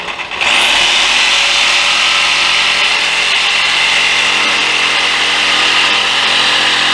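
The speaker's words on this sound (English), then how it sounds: "using a jigsaw" A jigsaw cuts wood for a small helmet or trophy case, starting abruptly and then running as a loud, steady, high-pitched buzz close by for several seconds.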